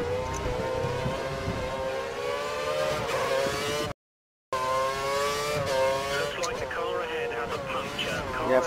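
The race car engine in the F1 2013 video game at the Hungarian Grand Prix holds a loud, sustained high-pitched whine that rises and falls with revs, and a voice talks over it.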